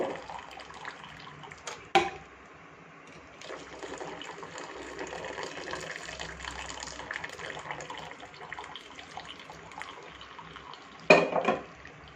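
Pepper masala tea with cardamom and cinnamon poured back and forth between vessels to cool, a steady close stream of liquid splashing with metallic clinks at the start and end, no talk.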